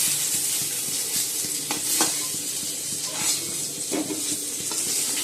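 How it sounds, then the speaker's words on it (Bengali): Pointed gourd (potol) frying in a home kitchen pan: a steady, close sizzle with scraping stirs and soft clinks of a spatula against the pan, continuous throughout, with no talking. "বন্ধুরা পটল ভাজছি,"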